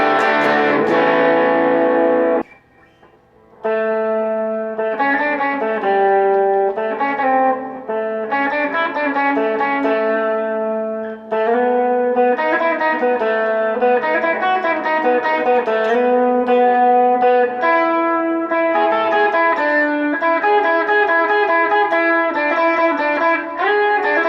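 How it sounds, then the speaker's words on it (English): An ammoon Strat-style electric guitar with built-in overdrive, reverb and delay plays a melodic line of sustained, echoing notes, with a short pause early on, no voices. "this has got some reverb, a little bit of delay, and some overdrive built into it"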